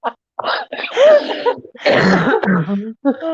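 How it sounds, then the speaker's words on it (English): A person coughing and clearing their throat up close in loud, rough bursts, with strained vocal sounds between them. "please forgive me for coughing"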